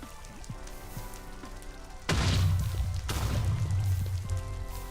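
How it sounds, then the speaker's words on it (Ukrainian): Water poured out in Minecraft, a sudden broadband rushing splash that starts abruptly and keeps flowing steadily over background game music, with a second surge about a second later. "Наливаємо воду."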